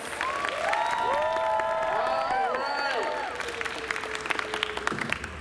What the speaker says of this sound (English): let's please give a round of applause for Miss Kathleen O'Shea David, as well as all of our wonderful judges